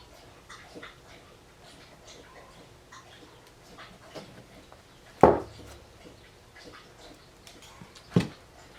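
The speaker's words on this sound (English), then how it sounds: "that's just my dog drinking water" Quiet, rhythmic lapping of a dog drinking water nearby, broken by two sharper knocks.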